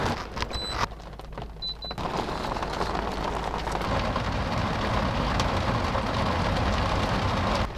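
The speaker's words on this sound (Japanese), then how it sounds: "なんかすごい大粒の雨で音がかなりします。" Heavy rain pounds loudly and continuously, big drops drumming on a car roof close by, heard from inside the car at a roadside station in Toyama, after a few brief knocks at the start.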